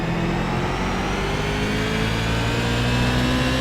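Onboard a Tour modified race car at Martinsville Speedway, a loud, unbroken engine drone holds near and steady, its pitch gliding gradually as the car runs hard through the corners.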